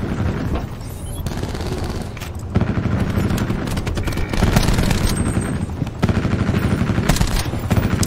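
Sentry gun in Call of Duty Black Ops 4 firing in a dense, continuous roar of rapid automatic shots amid heavy battle noise, loud and sustained throughout.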